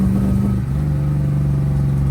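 A Volvo 240 with a Mopar engine swap runs rough and down at least one cylinder, giving a steady, loud, low engine drone throughout with an uneven, lumpy pulse and no voices.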